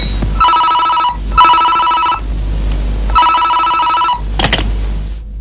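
An old-style telephone bell rings loudly in three long, even bursts separated by short pauses, followed by a brief clatter like a receiver being lifted, with a steady low hum underneath.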